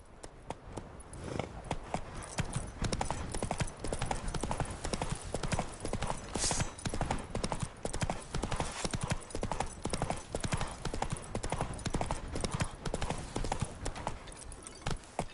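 Horse hooves galloping in The Witcher 3 video game, a fast, steady clip-clop rhythm that runs without a break and stays close and moderately loud for the whole stretch.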